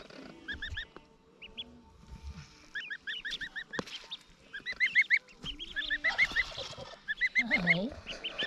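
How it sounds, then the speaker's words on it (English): On a farm, a goose gives repeated nasal honks in loud runs that build toward the end, mixed with high peeping from ducklings nearby. "Little quacklings and goose protector."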